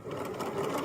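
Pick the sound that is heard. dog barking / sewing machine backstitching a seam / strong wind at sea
sewing machine backstitching a seam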